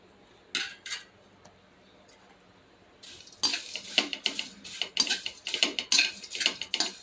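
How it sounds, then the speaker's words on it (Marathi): Mace and nutmeg being roasted in oil and stirred with a metal spoon, with sharp scraping and clinking strokes in a pan. They start sparse and quiet, then turn into a rapid, steady run of stirring. "आता ह्याच्यामध्ये जायपत्री आणि मायपत्री हे दोन्ही एकत्र भाजून घेते"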